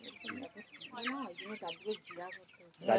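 Chickens on a poultry farm cluck in a steady, close stream of short calls during cold weather, with a louder burst of clucking at the very end.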